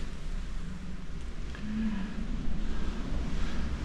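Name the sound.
wind blowing on a coastal walk in Dunwich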